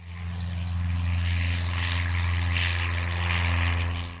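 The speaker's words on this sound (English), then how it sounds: "in spite of being terrified of flying in small aircraft, I'm going to do this." Small propeller aircraft in flight, a steady droning engine and propeller hum heard from close by, constant and moderately loud without pauses or voices.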